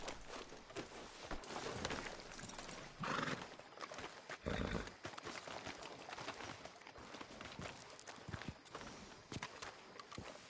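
Galloping hooves pound rhythmically with a horse's snort, mixed with rustling movement and game-like ambience in Red Dead Redemption, moderately loud and continuous.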